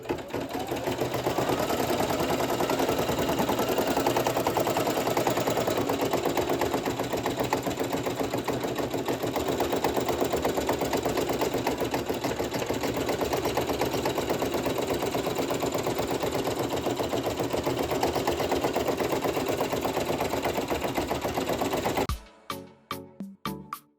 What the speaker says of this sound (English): now it's going to do the satin stitch